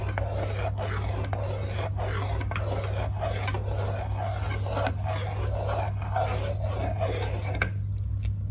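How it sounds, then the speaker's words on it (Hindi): A spoon scrapes and stirs chocolate custard dessert in a pot, a steady rasping rhythm of repeated strokes close up over a constant low hum, with no talking. "इसलिए आप ये कंटिन्यूसली चमचा हिलाते रहें।"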